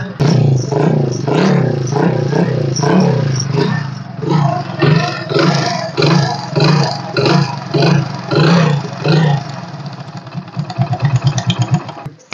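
A 1998-model Hero Splendor motorcycle with kick start and alloy wheels runs loudly up close, its single-cylinder engine thumping in a steady rhythmic pulse with small throttle variations and clattering mechanical noise throughout.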